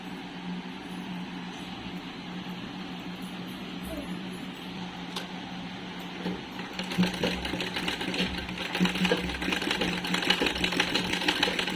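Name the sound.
sewing machine stitching a cap onto a doll's sari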